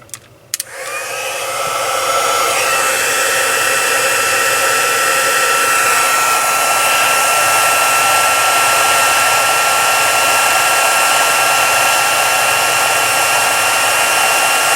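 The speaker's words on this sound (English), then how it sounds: "I'm just going to turn the heat tool on." Embossing heat tool switching on with a click and spinning up within about two seconds to a loud, steady, whining blast of hot air that runs on unbroken, held close with no talking.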